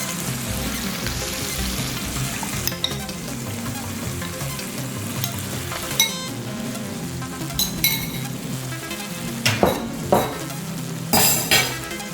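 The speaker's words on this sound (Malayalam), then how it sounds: "ഈ സമയത്ത് നമുക്കിതിലേക്ക് വെച്ചിരിക്കുന്ന ലിവർ ഇട്ട് കൊടുക്കാം" Chopped liver dropped into a hot pan for a liver fry, sizzling steadily while a spoon stirs and scrapes the metal, with a few sharper clinks of utensil against pan near the end.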